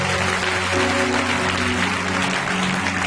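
A church congregation applauds to acclaim the Lord, a dense, continuous wash of clapping from many hands filling the room at steady loudness.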